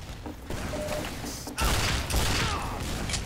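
Rocket explosions in Team Fortress 2 hit in quick succession, with a sharp loud blast at mid-clip and a second burst just after, set against constant game noise and mechanical clatter.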